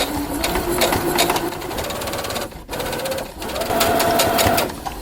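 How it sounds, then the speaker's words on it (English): A sewing machine stitches fleece in bursts of rapid, close mechanical chatter, pausing briefly for a backstitch before running on again, with a faint voice underneath. "We're going to be sewing with a 1/2 inch seam allowance, and we're going to backstitch."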